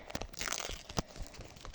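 Crinkly paper surprise packet being torn and crumpled open, a short burst of rustling with a sharper rip partway through, close by with no talking.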